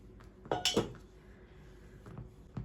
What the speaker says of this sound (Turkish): Şöyle bir tencere kapağıyla da çok güzel kesebilirsiniz.